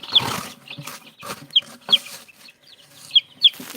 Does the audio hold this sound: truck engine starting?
no